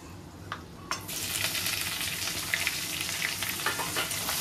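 Onion paste and whole spices such as cinnamon and peppercorn frying in a hot pan, a steady loud sizzle that surges in after a second and holds, with a few faint clinks of stirring.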